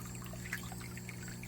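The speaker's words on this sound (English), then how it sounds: "All that water, fresh rainwater, goes down into the grow bag, goes into the sump" Fresh rainwater pours and trickles from a grow bag into an aquaponics sump and fish tank, a soft continuous splashing over a low steady pump hum.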